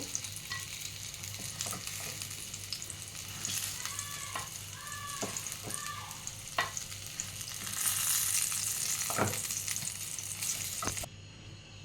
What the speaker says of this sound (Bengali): বেগুনগুলো ভেজে নিই, তারপরে আলুগুলো ভেজে নেব।